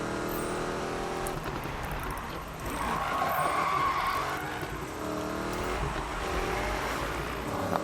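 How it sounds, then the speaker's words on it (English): Tires skid and squeal through a long drift as a 1965 Ford Mustang, four-wheel drive, slides around a corner in Need for Speed 2015, with a steady loud engine roar underneath and no talking. "Oh, that was a beautiful drift there."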